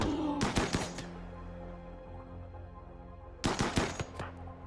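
Bursts of automatic gunfire from a zombie fight in RimWorld: a rapid volley of loud shots near the start, a stretch of quieter game ambience, then another clustered burst of shots near the end.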